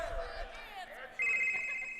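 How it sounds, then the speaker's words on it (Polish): A mobile phone ring tone starts abruptly partway through, a steady bright repeating electronic melody playing loud and close after a stretch of muffled conversation at a Star Wars Celebration fan convention in Orlando. "telefon mi dzwoni, co mam zrobić?"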